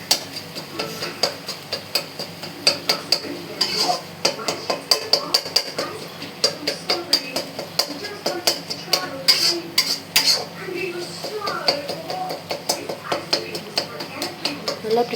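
Peeled boiled eggs being mashed in a bowl, a steady run of sharp tapping and clinking strikes of utensil on bowl at a quick, uneven rhythm, close and fairly quiet.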